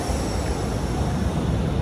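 Loud, steady rumble of a train in Hanover, Germany, a broad continuous roar with no speech.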